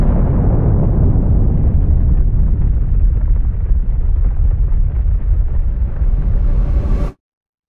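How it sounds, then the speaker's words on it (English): An atomic bomb detonation, the first ever, roars as a loud, sustained explosion with a deep rumbling body that holds steady for about seven seconds before cutting off abruptly. "The first atomic bomb had been successfully detonated."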